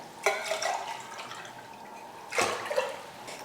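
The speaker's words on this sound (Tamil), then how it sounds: "சாதம் வைக்கிறதுக்கு தண்ணி ஊற்றிக்கலாம்" Water poured into a cooking pot to boil rice in a home kitchen, two separate splashing pours, the first trickling on for a couple of seconds and the second starting with a sharp rush, close and alone.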